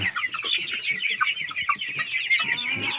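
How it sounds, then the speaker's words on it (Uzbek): A rooster clucks repeatedly in short, close, fairly loud bursts, mixed with other fowl sounds and with no talking. "Mana juda pilotkali xo'roz chiqadi."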